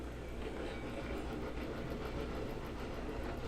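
Train cars roll along rails in the railroad video game Railroads Online, a steady, loud rumble with faint clickety-clack running throughout and no voices.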